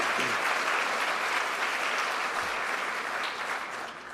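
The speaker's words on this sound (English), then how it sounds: "Let's give them a round of applause." Audience at the Cornell Tech campus ribbon-cutting ceremony in New York applauding, a steady, dense wash of clapping from many hands that holds evenly and tapers slightly at the end.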